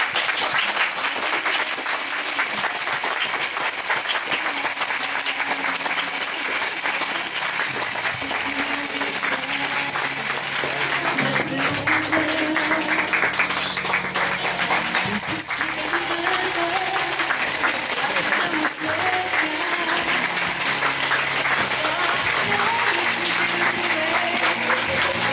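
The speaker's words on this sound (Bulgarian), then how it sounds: "Много усмивки и вашите аплодисменти за Велин" Wedding guests applaud the groom, Velin, with sustained, even clapping that continues for a long stretch. Music plays underneath the crowd and swells partway through.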